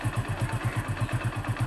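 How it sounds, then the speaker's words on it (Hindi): A running motorcycle that smokes and is losing engine oil idles close by with an even, throbbing low thump at a regular beat and slight piston clatter, with no voices. "देखिए बाइक अभी स्टार्ट है"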